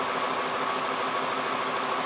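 2008–2018 Lexus LS460 with its 4.6 V8 idling in a garage, a steady, even mechanical hum close by, no talk.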